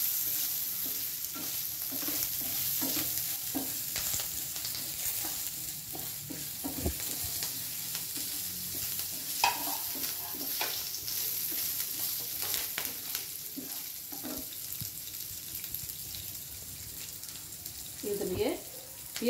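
Ginger and coconut sauté in a pan with a soft, continuous sizzle and repeated stirring scrapes, fairly quiet and steady throughout, with occasional speech in the background.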